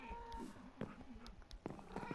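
Minecraft cat meows in short, close bursts with faint purring and game noises between them, fairly quiet and with no talk.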